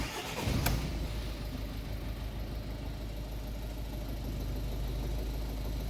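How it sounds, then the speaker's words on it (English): A Ford Focus with a misfire and injector trouble cranks and fires up with a brief burst, then settles into a steady, rough low idle close by. "Start the focus back up"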